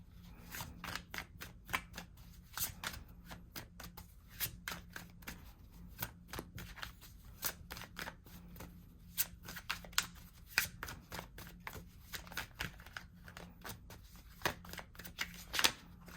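Tarot cards shuffled by hand in a steady run of quick, crisp riffling bursts that repeat throughout, close and fairly quiet, with no talk.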